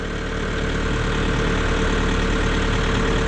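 A Kioti RX 7030 tractor engine runs steadily in low-range creeper, a continuous loud, even diesel drone at idle-like revs with no speech over it.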